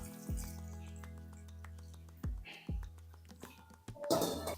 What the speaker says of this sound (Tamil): இந்த பலாக்கொட்டை முழுகிற அளவுக்கு தண்ணி ஊற்றிக்கலாம்